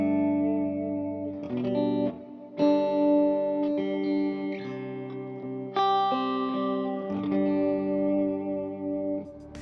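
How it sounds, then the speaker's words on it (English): Electric guitar run through a Strymon Big Sky reverb pedal at the end of a worship pedalboard chain, playing sustained chords that bloom into long, lush reverb tails with shimmering, effects-laden washes and no talking. "the reverb tones on it are fantastic"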